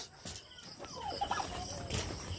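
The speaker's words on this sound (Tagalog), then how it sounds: "Yan, yung ating pong mga turkey." Turkeys gobble on a farm, a wavering burbling call rising over faint background clucks from nearby chickens, moderately close and without talk.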